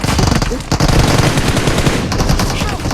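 Video game gunfire rattles out in loud, dense automatic bursts, nearly continuous for a few seconds with one brief dip, packed and close-sounding.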